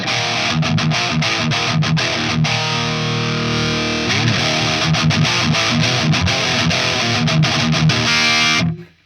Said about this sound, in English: This is what it sounds like when I engage the Lichtlaerm Audio King in yellow.